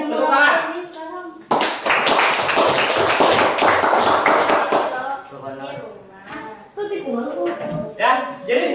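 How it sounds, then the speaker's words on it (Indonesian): A primary school class bursts into loud, close applause lasting a few seconds, with voices chattering through the clapping and a teacher talking before and after. "tepuk tangan"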